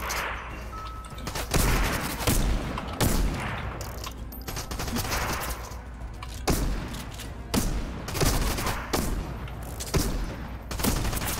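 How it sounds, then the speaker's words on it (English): Rapid bursts of gunfire from a gun in the video game Fortnite, fired at point-blank range, crackle loudly and almost continuously, with sharp repeated shots and short pauses between volleys. "Dude, this gun sucks. I'm at point blank and I'm missing every fucking shot."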